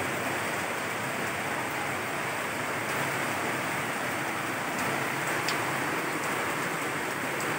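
Heavy rain from Typhoon Carina pours down in a dense, constant roar, loud and close, without pause or voices.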